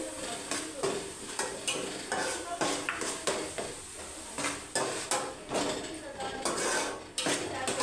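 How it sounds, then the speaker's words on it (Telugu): Ginger garlic paste fries in a pan for a fish curry while a spoon scrapes and stirs in steady, busy strokes, with crisp sizzling throughout and a few metallic clinks of utensil on pan. "కొంచెం ఇట్లా బాగా బ్రౌన్ కలర్ వచ్చేంత వరకు ఇట్లా వేయించుకోండి"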